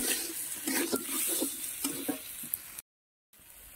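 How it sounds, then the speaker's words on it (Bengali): Water hits a pan of frying paneer curry with a broad, steady hiss and sizzle, broken by soft rhythmic stirring scrapes, close, then a brief cut to silence. "এখন জল ঢেলে দেবো।"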